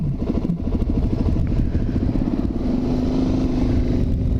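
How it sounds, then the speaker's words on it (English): A Suzuki DRZ400 supermoto motorcycle engine runs loud and close, a continuous rumbling idle with a faint rising whine near the end, no talking over it. "we're going to take out Supermoto DRZ400"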